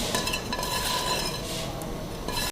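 Samosa stuffing of chicken, crushed cheese and mint leaves is mixed in a bowl, with a soft, steady scraping stir and faint clinks of utensil against the dish throughout.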